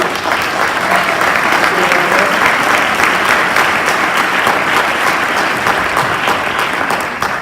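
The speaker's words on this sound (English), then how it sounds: "Can we give a big round of applause to her?" A high school audience applauds to welcome a student guest speaker, dense, loud clapping sustained throughout.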